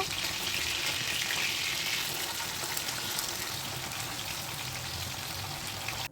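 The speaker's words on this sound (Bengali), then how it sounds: "মাছ আমার এক পিঠ হয়ে গেছে আরেক পিঠ উল্টে দেবো" Bhola fish sizzling hard in hot oil in a wok after being turned over: a dense, continuous, close crackling hiss that holds steady for about six seconds with no talk.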